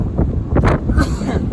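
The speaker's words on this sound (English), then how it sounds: "It's pretty windy out here today" Strong wind gusts buffet the microphone at an outdoor construction site, a loud low rumbling roar swelling and easing in quick pulses.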